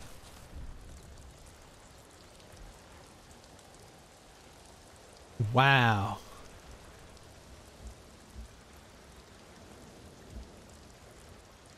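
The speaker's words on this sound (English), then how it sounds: "Look at the rain." Rain in the video game Ghost of Tsushima, a steady soft patter throughout, interrupted midway by a brief loud exclamation from a person.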